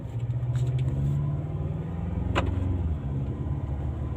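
A car driving along at steady speed on a fine day, its engine and road rumble holding as a constant low drone from start to finish, with one brief higher-pitched tick partway through.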